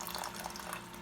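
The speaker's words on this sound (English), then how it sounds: "So now I'm gonna add in the tamarind water." Tamarind water is poured into a fish curry cooking over a medium flame, a steady close splashing and liquid rush with no speech.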